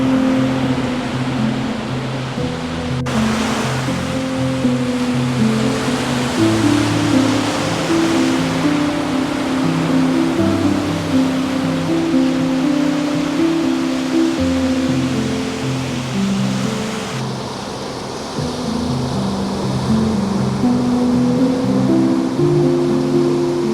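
Ocean waves wash ashore at Catherine Hill Bay on the New South Wales coast in the afternoon, a steady surf roar mixed with a lower humming drone and no voices.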